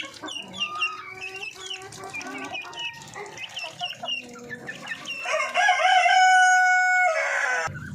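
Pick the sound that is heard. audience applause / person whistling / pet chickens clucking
pet chickens clucking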